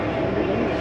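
Yangon Circular Train carriage in Myanmar rumbling and rocking as it moves, a continuous loud, dense rail roar with no distinct voices over it.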